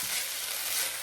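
Sizzling and frying of risotto rice in a pan as white cooking wine is poured in, a steady bright hiss filling the second with no talking.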